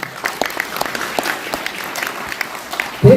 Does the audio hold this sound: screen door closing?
no